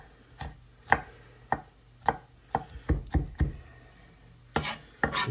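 A knife chops vegetables on a cutting board for spaghetti sauce, giving about a dozen sharp, close knocks in an uneven rhythm, some landing in quick bursts, with no talking.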